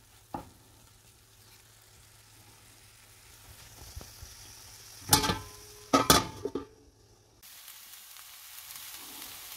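Banana flower cooks in a pan before the lid goes on, a faint low sizzle under a few close scraping stirs and a clatter, then quieter simmering.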